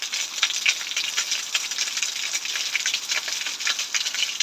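Rain in Punjab, Pakistan patters steadily as dense, close, crackling drops on surfaces, moderately loud and continuous without voices.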